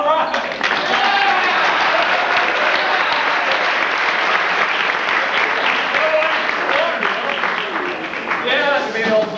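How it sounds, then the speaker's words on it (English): Audience applause at a live 1980s chemistry demonstration, dense sustained clapping from a crowd filling the whole stretch, loud and close, with some voices mixed in. "Give him a big round of applause."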